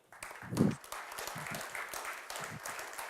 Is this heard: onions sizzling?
no